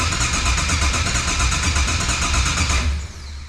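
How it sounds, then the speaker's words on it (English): Steady loud mechanical whirring and buzzing from a car with an LS engine swap while its fuel pump cycles, sustained and close, dropping off abruptly near the end. "There's the fuel pump. Here's the pump now."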